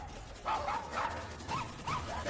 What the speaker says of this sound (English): she trots around and barking, yapping away, and in every dog's face